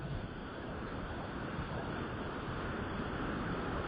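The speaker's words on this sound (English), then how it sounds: "usually put the air conditioner off because it's so noisy" A steady, broadband whooshing hum of an air conditioner fills the room, constant and fairly quiet, with no speech.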